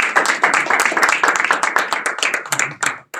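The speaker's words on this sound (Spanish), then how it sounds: "un aplauso" Audience applause at the close of an online panel on digital transformation, a steady burst of many hands clapping fairly loud, thinning out near the end.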